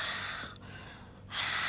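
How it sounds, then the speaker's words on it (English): Breathy, hissing exhales through a constricted throat, soft and close, with a brief pause midway before the airy rush swells again. "I sat down to do some ocean breathing or ujjayi breathing."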